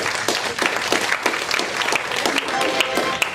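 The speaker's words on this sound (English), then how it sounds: "let's give them a round of applause" A church congregation breaks into applause, a dense, steady clapping from a crowd that carries on for several seconds at fairly close range.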